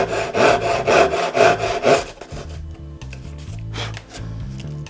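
A hand saw cuts mitred dovetails in wood, rhythmic rasping strokes in a quick back-and-forth cadence for about two seconds, then lighter, slower scraping strokes as the cut nears its line.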